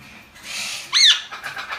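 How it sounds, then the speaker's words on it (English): A sharp, loud Quaker parrot squawk bursts out once in the middle, with softer chirpy calls before and after. "These Quakers are real noisy."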